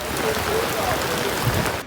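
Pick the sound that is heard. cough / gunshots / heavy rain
heavy rain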